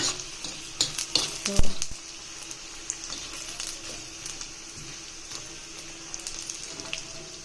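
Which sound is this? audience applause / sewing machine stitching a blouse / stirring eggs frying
stirring eggs frying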